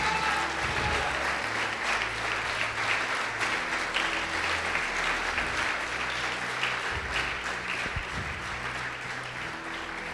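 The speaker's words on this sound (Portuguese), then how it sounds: "Pode aplaudir e glorificar a Deus." A church congregation applauds to glorify God during a sermon: a dense, even wash of many hands clapping, sustained and steady throughout, with a faint crowd murmur beneath.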